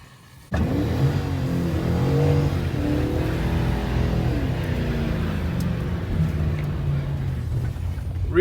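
A rear-wheel-drive car does a burnout on a rainy street, its engine roaring in suddenly and holding a loud, sustained rev with rising and falling pitch, close by.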